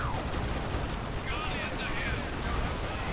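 Grenade blast in the real-time strategy game Dawn of War 2 Retribution, Imperial Guard against Eldar, a dense rumbling explosion layered into constant battle noise that stays loud throughout.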